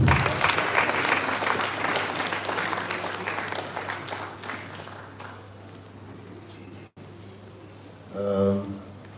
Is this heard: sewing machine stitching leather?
no